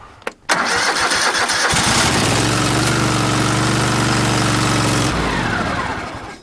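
An Oldsmobile van engine cranks briefly, catches and settles into a loud, steady idle up close for several seconds before the sound tapers off.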